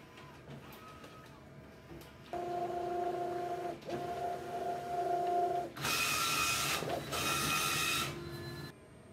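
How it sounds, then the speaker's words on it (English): A sublimation inkjet printer prints an image for a door mat nearby, its carriage whirring back and forth in repeated passes with mechanical hums and clicks, growing louder partway through. "So yeah, here we are printing it out."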